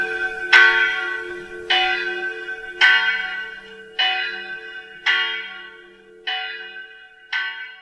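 Church bells ring out in slow, evenly spaced strikes, seven clear peals each ringing on and fading before the next, bright and prominent with no voices.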